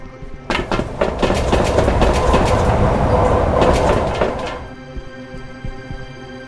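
A video game train in The Murder Express 3D rumbles loudly along its rails for about four seconds, with rhythmic clacks and thuds over the wheels before the noise drops away to quiet.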